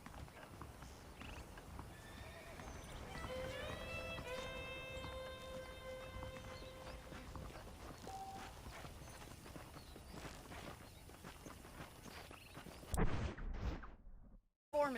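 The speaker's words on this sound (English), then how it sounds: "The horses are saddled up over here." Saddled horses in the Red Dead Redemption video game, with steady hoof clip-clop under a background din, a clear neigh and whinny rising mid-clip, then a sharp louder burst near the end.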